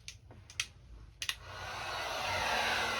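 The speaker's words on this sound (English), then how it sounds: "So now, I'm going to just use my heat gun" A heat gun blows over a resin art piece. A few light clicks come first, then a steady, loud, hissing rush of hot air holds close and constant to the end.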